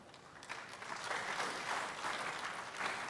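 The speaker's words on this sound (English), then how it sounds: "His Excellency has been applauded all through the summit." Sustained applause from a large crowd at an investment summit, steady clapping that swells slightly and continues throughout.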